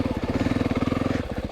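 A 2025 Yamaha YZ450FX dirt bike engine idles in first gear and then takes a small throttle blip, its close, steady pulsing thump rising briefly before it settles back.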